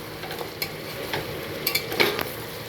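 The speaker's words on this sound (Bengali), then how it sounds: "এখন একটু ভালো করে নেড়ে নিচ্ছি।" Chicken curry being stirred in a pan after fried garam masala powder goes in, giving soft scraping and light sizzling with a few sharper spoon-on-pan clinks, close up and steady, with no talk.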